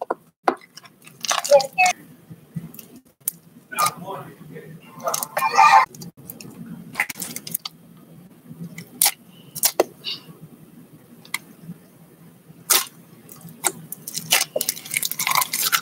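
Butter slime is pressed and squished by hand, producing soft wet clicks, pops and sticky squelches in irregular bursts, with a brief spoken voice and quiet background hum.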